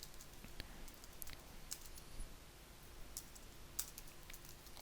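Quiet, scattered keystrokes on a computer keyboard tap irregularly over steady background hiss, soft and close, with no speech.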